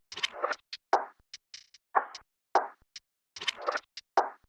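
Reversed percussion samples looping in FL Studio, a rhythmic pattern of swelling, sucked-in hits alternating with short crisp ticks and clicks, close and dry with no voices.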